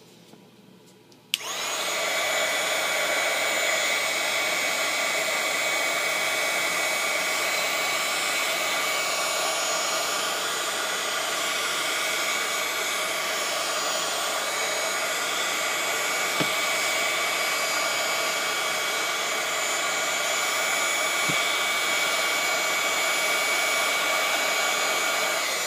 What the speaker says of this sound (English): And my heat gun again.